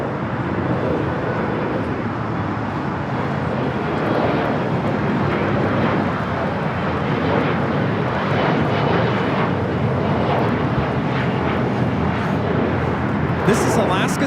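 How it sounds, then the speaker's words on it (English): SkyWest Embraer E175 regional jet taking off from LAX for Las Vegas, a constant broadband engine roar with voices talking throughout. "3178 taking off to Las Vegas on the E175."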